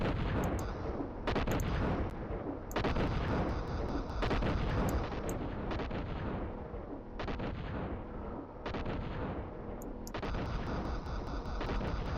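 Explosions and gunfire in a video game where killer cleaning robots attack, loud and continuous with dense repeated blasts and bursts throughout, no talking.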